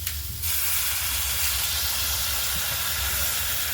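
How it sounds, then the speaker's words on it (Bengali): Water poured into a hot pan of pumpkin bursts into a loud, continuous hissing sizzle that starts abruptly and holds steady throughout. "মোটামুটি অল্প জল দিলাম"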